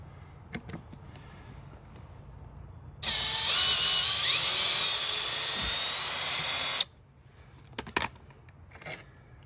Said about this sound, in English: Okay, I'll back it out with the drill.